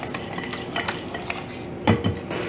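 A utensil stirs gluten-free pumpkin cream cheese bread batter in a bowl, making soft repeated scrapes and light clinks, with a couple of louder knocks near the end, close by and without talk.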